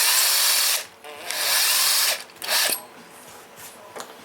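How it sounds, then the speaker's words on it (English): Hand-spun case trimmer cutter shaving the mouth of a 30-30 brass cartridge case, heard as bursts of close, bright scraping with short pauses between turns. "as you rotate and spin the case and hold this cutter, you're going to start to trim the"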